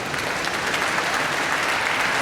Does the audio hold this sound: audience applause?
yes